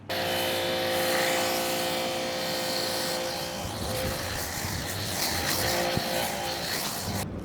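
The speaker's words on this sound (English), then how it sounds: "take my foam cannon and foam back on another layer" A foam cannon sprays a fresh layer of foam onto a truck during an exterior maintenance wash, a steady loud hissing spray running without pause from start to finish.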